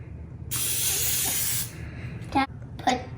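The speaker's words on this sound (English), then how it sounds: "So spray a pan." Cooking spray hisses from a can onto a baking pan in one steady burst of about a second, close and loud, followed by a couple of light clattering knocks.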